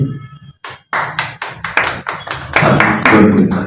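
Hands clap at a gathering: a sparse few claps that quickly build into a dense, fairly loud round of applause, close to the listener with no talk over it.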